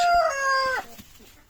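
A chicken gives a loud harmonic call that breaks off after about a second, recorded near a backyard poultry flock with hens and a rooster.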